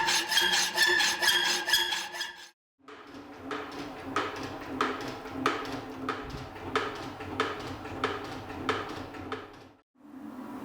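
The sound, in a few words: hacksawing the corners off a metal plate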